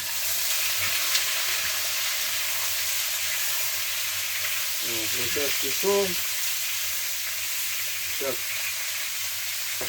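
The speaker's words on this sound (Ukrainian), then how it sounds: "Сковорідочка наша вже в процесі. Шкварчить." Steady sizzling of fresh pork frying in a pan fills the clip, with a short spoken phrase and a few clanks midway.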